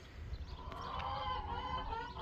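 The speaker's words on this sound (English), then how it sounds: "Chickens, you're not supposed to be out there either." Chickens clucking in a barnyard where a rooster and other farm animals roam, a steady mix of fowl calls with scattered bird voices over low background rumble.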